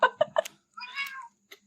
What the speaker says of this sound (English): Is that your cat in the background?